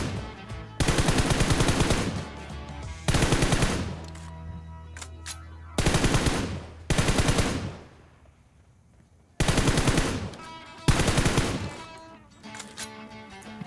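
Bursts of rapid automatic gunfire in PUBG Mobile, five or six loud sustained volleys of a second or so each, separated by brief quieter gaps, with no talking over them.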